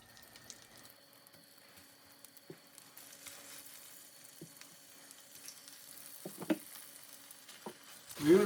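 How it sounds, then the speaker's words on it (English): Chicken fries in olive oil and butter over a medium flame, a quiet, steady sizzle with soft crackles and pops that grow a little livelier toward the end, heard close with no talking. "We will fry at medium flame till they are golden brown."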